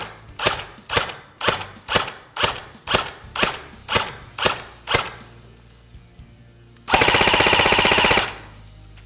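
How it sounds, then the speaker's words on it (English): An ICS L85 airsoft bullpup rifle fires about ten single shots at an even pace at a range, each one a sharp close snap, followed by a longer continuous burst of full-auto fire. "Let's go ahead and take it to the Corona range and see how it shoots."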